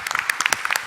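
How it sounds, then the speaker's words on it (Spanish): Brief scattered clapping from an audience at an education panel, a few individual claps popping out over a fading round of applause. "yo quiero pedir a todos ustedes un aplauso para este excelente panel y la presentación"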